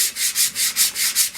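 Sandpaper of 80 grit rubs back and forth by hand along the grain of a turned maple vase. The close, raspy strokes repeat in a steady rhythm of about seven passes.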